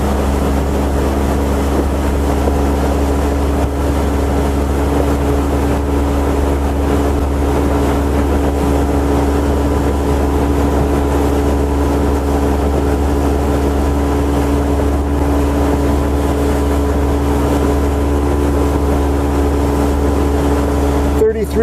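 A 2022 Mercury 60hp outboard on a Starcraft boat drones loudly and steadily throughout, a constant low hum with wind buffeting the microphone.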